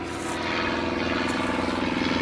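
A propeller aircraft flying overhead above a garden, a steady droning engine hum with a slight pulsing beat, fairly loud and continuous with no voices.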